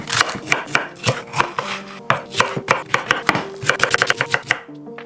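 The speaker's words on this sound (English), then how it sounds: "I'm just gonna chop up some veggies." A knife chops vegetables on a cutting board for a tofu stir fry, giving a quick run of sharp, close taps in uneven bursts. A few pan or dish clinks sound near the end, and no one talks.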